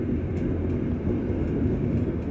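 Low, steady rumble of a CC204 diesel locomotive shunting a Babaranjang coal train, a continuous heavy drone close by with no gaps and no talking.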